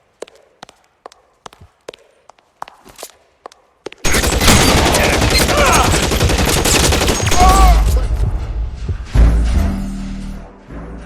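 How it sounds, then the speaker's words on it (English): Gunfire in the video game L.A. Noire: a few sharp isolated shots first, then a loud dense burst of continuous rapid fire with some shouting mixed in, easing toward the end. "the guns!"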